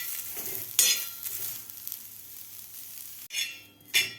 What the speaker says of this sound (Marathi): मी तेल न घालताच कांदा भाजून घेणार आहे।